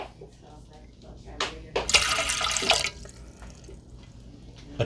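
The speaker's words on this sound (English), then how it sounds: "First ingredient, 1 cup room temperature water. I'm gonna put this in right now." Room temperature water, one cup, poured into the pan of a Cuisinart bread machine, a brief splashing rush of about a second sitting between faint handling sounds in a quiet kitchen.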